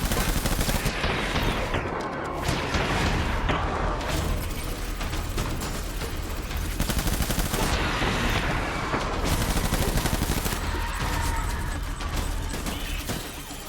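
Rapid gunfire from a gun in the video game Death Stranding, dense sustained bursts of shots filling the whole stretch, loud and continuous with brief dips.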